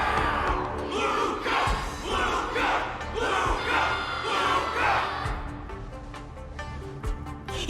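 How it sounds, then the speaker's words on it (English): A large video game crowd cheers and chants in loud rhythmic waves, a roaring stadium-like swell that fades somewhat toward the end. "Everyone's cheering for you, Luca!"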